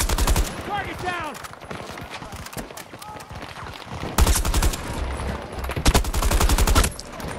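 Rapid bursts of automatic gunfire in Battlefield 2042 crackle close and loud, with a dense sustained volley in the second half, while a player's voice talks over the shooting.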